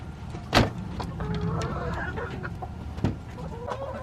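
Chickens cluck at a homestead with broody hens in the flock, short clucks and calls over an outdoor background, with two sharper bursts standing out.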